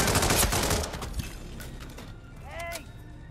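Gunfire in Hitman 3 on Ambrose Island: a loud, ragged volley of shots opening the moment, then thinning into scattered distant cracks and rattles, with a whining tone rising toward the end.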